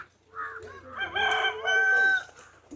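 A rooster crows loudly nearby, a rising drawn-out call, with clucking chickens around it at a village house; no one speaks.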